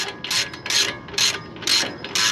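Ratchet wrench loosening the coilover top bolt on an 8th gen Honda Civic Si, five loud close ratcheting bursts in a steady back-and-forth rhythm.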